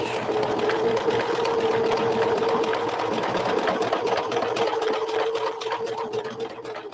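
A sewing machine back stitching a fabric clutch, running in a continuous loud even whir for several seconds.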